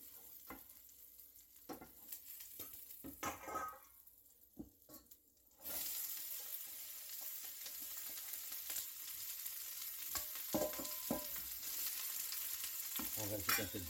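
Onions and celery hit a hot pan for a garlic veal shank dish and break into a steady, loud sizzle of frying that holds to the end, after a few seconds of quieter kitchen clatter.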